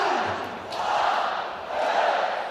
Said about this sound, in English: The crowd counting us down for the final match